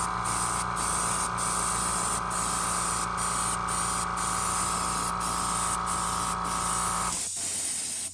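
An airbrush sprays paint onto a Big Belly swimbait lure being painted in a threadfin shad pattern. It makes a steady, close hiss for about seven seconds and then cuts off.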